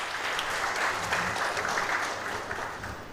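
Crowd applause greeting a fine shot at the Maldives Open 2024 pool final, steady dense clapping throughout that fades slightly toward the end.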